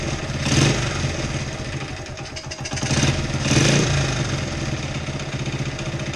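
A 1972 Honda CT70H small motorcycle engine with a leaking head gasket runs close by, idling roughly and rising in a few brief throttle blips before settling back, with no voices.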